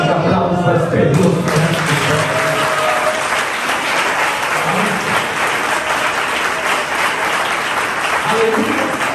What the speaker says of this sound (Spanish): Un aplauso a este Dios.